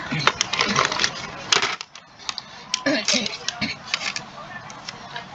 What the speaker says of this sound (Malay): Awak tekan kalkulator semua sekali